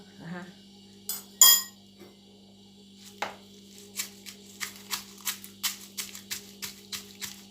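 Garlic, chili and salt pounded in a mortar, a run of close, sharp knocks in an irregular then quickening rhythm over a faint steady hum.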